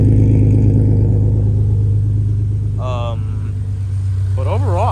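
A Nissan 370Z engine idles with a steady low rumble after an injector O-ring replacement, running smoothly and continuously while someone talks over it.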